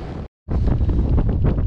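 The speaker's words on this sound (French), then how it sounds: "je confirme, il y a beaucoup de vent" Strong wind buffets the microphone in loud, roaring gusts, with a brief dropout of silence near the start.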